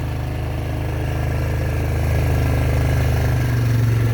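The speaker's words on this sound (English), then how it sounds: "Got Kilo on the back of the four-wheeler with me. We're gonna go." A four-wheeler ATV engine idles steadily close by, a loud continuous low rumble that rises slightly in pitch toward the end, with no voices over it.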